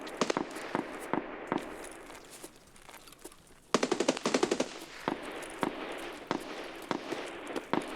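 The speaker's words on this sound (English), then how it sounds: "Plenty of shooting going on now." Gunfire in a survival video game: rapid bursts of automatic fire mixed with single sharp shots, loud and close, with a dense cluster of fast shots midway and steady repeated cracks throughout, no talk.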